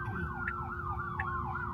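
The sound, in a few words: ambulance siren passing at intersection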